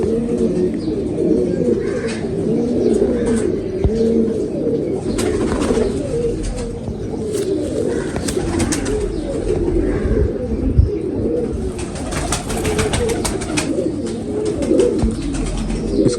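Several pigeons kept for pigeon flying coo in repeated soft, throaty calls, near and steady, with occasional rustling and faint background noise.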